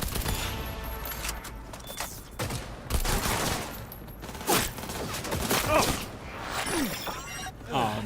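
Gunfire in Cyberpunk 2077: rapid bursts of shots and sharp impacts come in uneven clusters, fairly close, with brief spoken exclamations between them.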